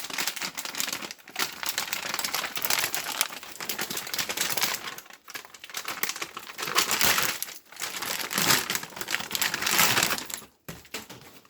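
A plastic 2.5-litre dialysis fluid bag is handled and set on the edge of a trolley, giving dense, continuous crinkling and rustling up close, with brief pauses between bursts.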